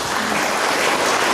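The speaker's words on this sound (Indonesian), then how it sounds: "Mari kita tepuk tangan." A church community gathering breaks into applause, a dense, even wash of many hands clapping that fills the entire brief moment without any talk.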